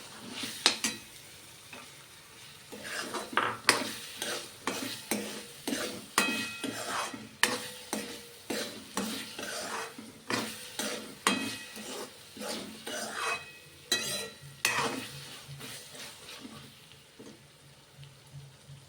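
Green cowpea seeds sizzling in a hot pan while a spoon stirs them, repeated scraping and clinking strokes in an irregular rhythm over a soft steady fry, close and fairly quiet.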